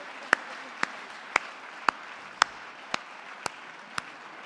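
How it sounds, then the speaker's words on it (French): Sparse, evenly spaced claps, about eight sharp hand claps over a few seconds, over a quiet hum at a French research-centre award ceremony, far from a loud ovation. "On vous applaudit extrêmement fort"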